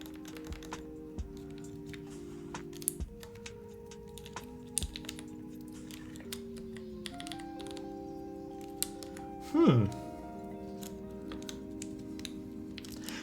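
Typing test on a Monokei Kei V2 mechanical keyboard: steady, dense clacking keystrokes at an even pace, with a brief louder burst near the end, over a faint tonal background.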